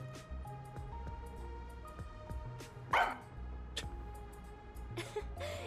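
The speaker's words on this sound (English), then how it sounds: "She barks at me all the time." Single sharp dog bark from the video game Rain Code, near and brief, set against a continuous game music bed with a few faint yips toward the end.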